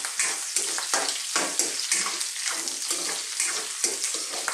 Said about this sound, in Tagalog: So, gigisayin lang natin siya ng mga ilang minuto